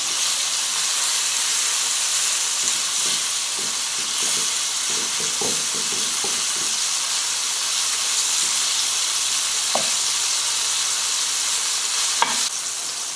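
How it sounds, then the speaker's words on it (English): Beef sizzles and fries steadily in a hot pan for Chinese takeaway-style crispy chilli beef, with a constant hiss and a run of scraping, stirring taps as the pieces are turned over, plus a couple of sharper clinks near the end. "we just want to turn this over and then fry on the other"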